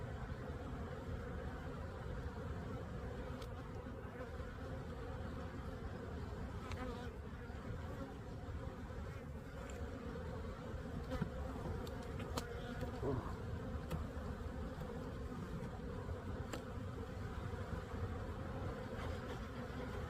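A honeybee colony at an open hive in a bee yard hums in a steady, dense buzz for the whole stretch, close and continuous, with a few faint clicks and knocks of handling over it and no talk.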